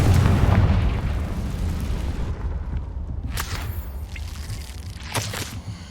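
A Confringo blasting spell explodes in Hogwarts Legacy, a loud rumbling burst at the start that fades, followed by a couple of smaller sharp pops against a low game background.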